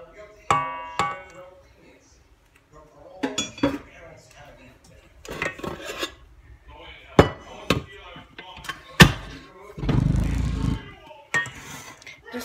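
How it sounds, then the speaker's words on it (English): A spatula scrapes and knocks around a mixing bowl of peanut butter chocolate chip cookie dough, with irregular clinks, taps and rubbing strokes, including one longer scrape, close by in a kitchen. "Scrape the bottom of your bowl to make sure everything is well combined."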